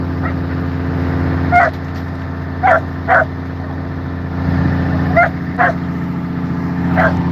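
A dog barks repeatedly in short, sharp yips at irregular intervals, moderately near, over a steady engine-like hum from a vehicle traveling on the road to Juneau.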